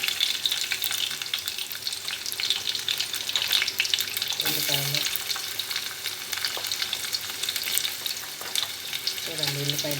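Onions frying in a pan for a dried fish curry, a continuous close crackling sizzle with a couple of brief clinks from stirring, a voice speaking faintly in between.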